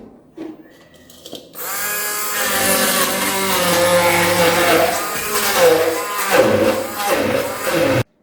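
A blender grinds onion marinade for pork steaks into a sauce-like puree. After a brief tap and silence, the motor starts with a loud, close, steady whir that wavers as the contents churn, then cuts off abruptly.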